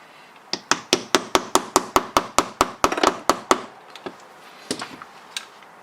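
A hammer tapping metal airsoft pistol parts while an STI DVD Tactical Hi-Capa is assembled: about fifteen sharp, evenly spaced close strikes in quick rhythm, then a few scattered lighter taps.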